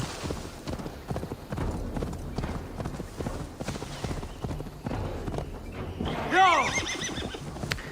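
A horse clip-clops along steadily in Assassin's Creed Valhalla, its hoofbeats close and continuous, with a loud neigh near the end.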